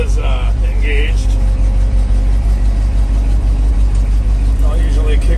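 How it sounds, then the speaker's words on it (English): A GMC 7000 boom truck's big block 366 engine runs steadily while driving a hydraulic pump, giving a loud, continuous low rumble with a slight surge, with brief voices near the start. "Hear the surge on the motor. So now the hydraulic pump is engaged."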